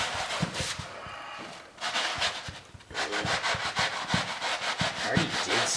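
Close, rhythmic scrubbing strokes rasp against the upholstery of a Jeep Cherokee seat, continuing steadily with a brief lull partway through.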